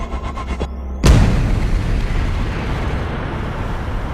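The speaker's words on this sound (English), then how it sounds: "an explosion of simply cosmic scale" A supernova explosion of cosmic scale rendered as one sudden loud boom, followed by a long sustained roar that slowly fades, preceded by a quieter tonal rising sweep.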